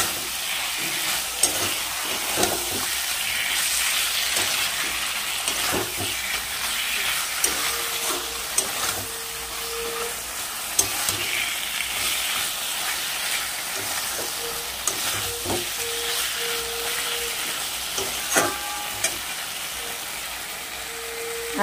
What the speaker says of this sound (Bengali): এবার আমি নাড়িয়ে চাড়িয়ে ভালো করে মশলাটাকে কষিয়ে নেব।